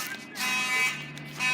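A hotel fire alarm sounds with a harsh, bright electronic buzz in pulsing bursts, heard at moderate distance indoors.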